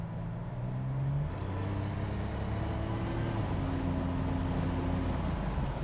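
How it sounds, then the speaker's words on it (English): A 1986 Buick Grand National accelerates onto a highway, its turbocharged engine droning loudly and steadily from inside the cabin, the tone rising as it pulls through gear changes, with no talking. "We're getting on the highway right now, so I figured we'll give it a little bit of gas"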